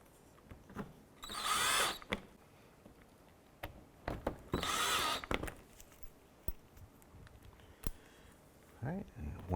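A power drill drives screws across the bottom of the bumper on a 2011-2018 Volkswagen Jetta during a fog light kit install, in two short, close whirring bursts separated by quieter handling noises and speech.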